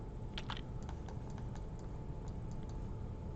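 Computer mouse clicking while working in SketchUp, a few soft, sparse clicks spread over a few seconds, faint and close above a low background hum, with no talking.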